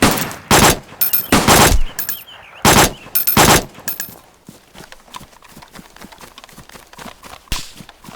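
Gunfire in the DayZ video game: several loud, close bursts of rapid shots in the first few seconds, followed by a long run of quieter, spaced single shots and clatter, and one more loud burst near the end.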